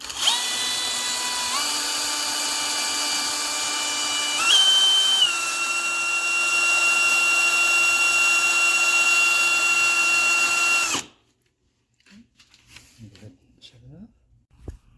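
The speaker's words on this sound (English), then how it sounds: "now I'm drilling a hole through here" A power drill whines steadily at high speed for about eleven seconds while drilling a bolt hole on a vehicle, its pitch stepping up slightly a few times, then cuts off abruptly, leaving quiet handling noises.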